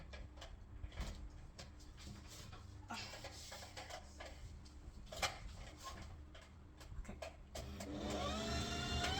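A home sewing machine winds thread onto its bobbin, a faint steady mechanical whir with small ticking clicks that rises slightly toward the end, heard close and without talk.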